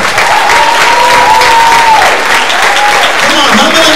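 A church congregation claps and shouts together in a loud, steady burst of applause mixed with cheering voices and a sustained sung or shouted tone, filling the space throughout.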